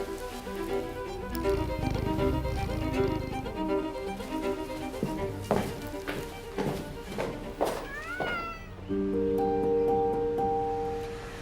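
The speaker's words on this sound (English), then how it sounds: "Morcha, my cat, is the only living creature I'm saying goodbye to." A pet cat meows several times over a soft background of rustling and footsteps, with a sustained musical tone entering near the end.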